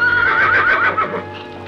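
Startled horses neigh loudly in a close, wavering whinny that rises and falls, with hoof clip-clop beneath, fading slightly toward the end.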